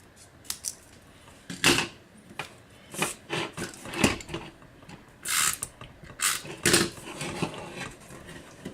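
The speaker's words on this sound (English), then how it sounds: "I'm going to take my snips, and I'm going to just cut off a little bit on each side" Small snips cut off a little bit on each side of a piece in a craft project, giving irregular close snipping clicks spread over several seconds at low volume.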